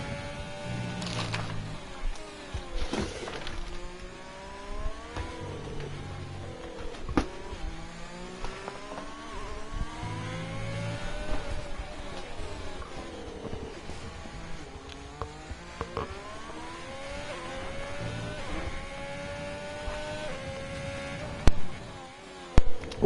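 An F1 race car engine from an F1 esports video game at the Brazilian Grand Prix screams around the track, its pitch climbing through gear after gear with repeated shifts and downshifts, loud and continuous with no voices.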